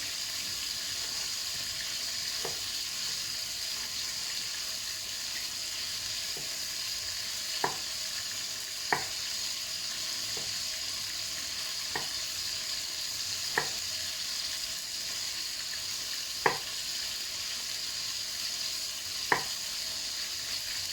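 Thai style crispy pork frying in a pan, giving a steady, quiet sizzle under a constant hiss, with occasional faint clicks and pops spaced a few seconds apart.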